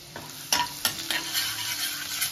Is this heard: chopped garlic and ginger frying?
yes